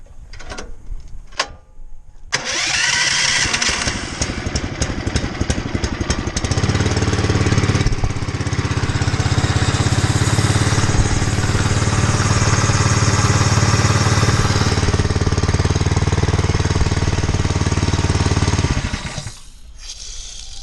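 Pressure washer diaphragm pump (AR30/AR40/AR50/D30/D50 type) running steadily after a valve repair, a loud continuous mechanical churning drone with rapid rattling at startup, then a sustained hum that cuts off near the end.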